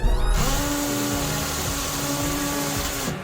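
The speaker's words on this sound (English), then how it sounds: "start to drill the wall as high as you can" An electric drill bores steadily into a concrete wall to mount a TV, its motor whining at a constant pitch with grinding masonry noise for about three seconds, loud and close, no one talking.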